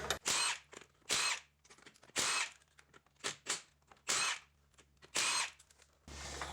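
Repeated short bursts of a power tool spinning off the 21 mm wheel lug nuts on a 2017 Nissan Maxima, about six loud, close whirring runs separated by brief pauses, with a different hiss at the end.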